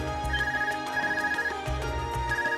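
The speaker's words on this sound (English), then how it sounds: "A phone call." A phone rings in the game The Legend of Heroes: Trails of Cold Steel, a repeating electronic ringtone with bright sustained tones over a low musical bed, loud and alone.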